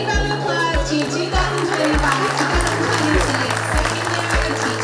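An audience at a Teachers of the Year ceremony for Eagle Pass High School claps loudly and continuously over a steady, pulsing music beat.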